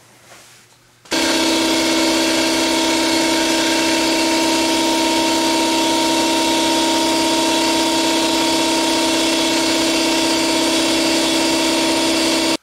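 An air compressor in a workshop kicks on abruptly after a moment of quiet and runs loud and steady, a constant mechanical whine with a humming drone that holds unchanged to the end.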